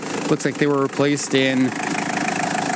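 A 1996 Toyota Hilux Surf SSR-G idles with a steady low hum under a voice, the engine carrying on evenly alone once he stops talking.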